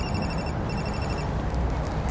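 A telephone rings in a scene from the TV drama The Wire, two repeated bursts of trilling bell tones over a steady hissing background, no voices.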